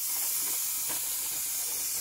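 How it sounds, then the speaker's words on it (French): Steam hisses steadily and loudly from a Presto pressure canner, a constant broadband rush lasting throughout with no voices. "La belle petite vapeur."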